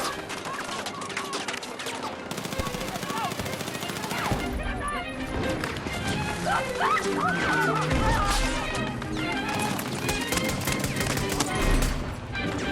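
Gunfire in the Battlefield 6 video game: dense bursts of automatic fire and single shots crackle throughout amid a busy, loud battle mix, with a few heavier crashes.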